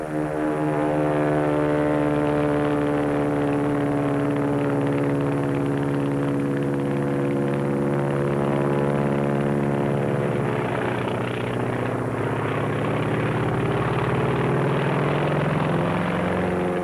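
A Japanese Zero fighter plane's propeller engine drones loud and steady in flight, a dense continuous roar with its pitch shifting slightly, with no talk over it.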